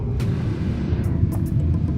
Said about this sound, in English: Oh shit, and a big ass truck.